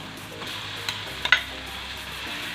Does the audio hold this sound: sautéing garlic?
yes